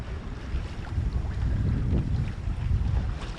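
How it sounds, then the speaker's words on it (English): Steady wind blows while sailing on a sunny day with a full set of sails, with rushing air and buffeting close to the microphone and the low wash of the boat, continuous and fairly loud, with no voices. "Lovely wind at the minute, but we'll see what it's like later on."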